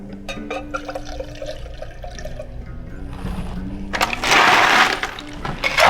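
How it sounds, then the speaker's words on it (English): Ice cubes rattle and clatter into a cocktail shaker while a green tea shot is mixed at a bar, a burst of loud rattling near the end following quieter clinks and background music. "Put some ice in your shaker."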